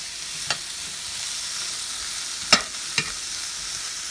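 Onions and jalapeños frying in good salted butter, a soft steady sizzle with a few sharp utensil knocks against the pan, close and without speech.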